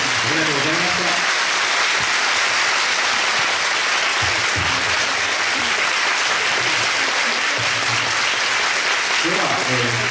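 Large audience applauding at a film festival talk show for the film Elle, steady dense clapping sustained throughout, with voices speaking faintly over it near the start and end.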